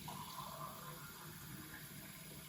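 Warm water runs steadily from a household tap, a continuous broadband rush close by with no talking.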